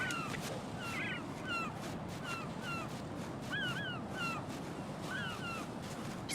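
Bird calls from Metal Gear Solid 2 repeat steadily over a constant, dense hiss of wind or water, with short chirping cries recurring every half second or so at moderate distance.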